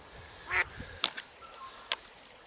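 A few short duck quacks by a riverbank, three or four separate calls spread over a couple of seconds, moderately distant and fairly faint against a quiet outdoor background.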